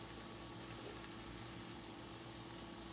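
Onions and peppers fry in a pan for an egg and cheese breakfast, giving a steady, faint, even sizzle with fine crackle throughout and no talking.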